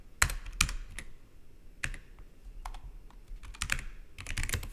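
Close typing on a computer keyboard, command and arrow keys tapped in short bursts of sharp clicks with brief pauses between, no voices.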